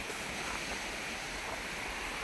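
Sea waves wash onto the beach at Kochi, where fishing boats return and fishermen cast nets; a steady broadband roar of surf and wind continues throughout at moderate level, with no voices.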